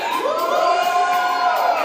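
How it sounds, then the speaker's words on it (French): A church congregation at a worship service cheers and shouts for joy, a sustained blended crowd roar with rising whoops, loud and continuous throughout. "Est-ce qu'on peut pousser des cris de joie pour le Seigneur?"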